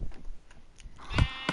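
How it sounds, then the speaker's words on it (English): A Minecraft sheep bleats briefly, followed by a few short clicks and taps at moderate level. "Sorry, sheep, get out of my life."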